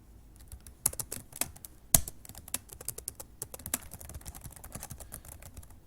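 Rapid keystrokes clatter on a computer keyboard while code is written, an irregular run of sharp, close clicks with a few louder taps and brief pauses, no talking.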